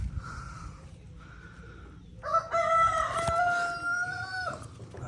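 A rooster crows close and loud in one long drawn-out call with harmonic overtones, preceded by two shorter clucking calls, against steady farmyard background noise.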